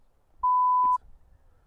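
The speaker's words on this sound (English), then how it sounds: "We can beep it out, Chris, don't worry" A single steady censor beep, a pure mid-pitched tone lasting about half a second, covers a spoken word during casual golf-course chatter, with quiet background before and after.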